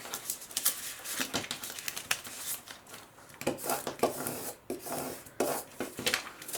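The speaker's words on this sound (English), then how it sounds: "using a scraper, I'm just going to give it a couple of passes here on the front and the back" A scraper rubs across transfer tape on a sign in a few close passes, making dry, raspy strokes of varying strength. No speech is heard.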